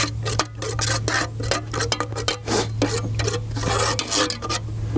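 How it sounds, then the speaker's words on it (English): Flour being stirred into melted butter for a sauce, close rhythmic rasping strokes of a utensil scraping around the pan, repeated steadily without pause and with no talking. "mix this with the melted butter"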